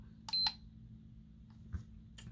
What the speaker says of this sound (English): This thing started beeping at me. It says it is done being charged.